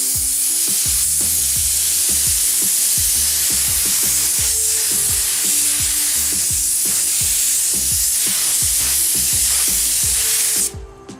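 A spray gun spraying clear coat over a car's base coat hisses steadily for about ten seconds, a loud continuous spray with faint rhythmic low thumps underneath, cutting off at the end.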